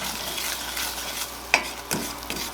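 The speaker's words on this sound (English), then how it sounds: "She's going to start sizzling because that alcohol is going to burn off. So we're going to stir that in" Bourbon sizzles in a pan as it is stirred in for a honey bourbon rib glaze. A brief, steady hiss is broken by a few light scraping clicks of the spoon.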